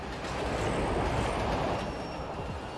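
Train arriving with zombies in the mobile survival video game Project:GAIA, a steady rumbling roll of rail wheels with faint squeals, loud and continuous throughout.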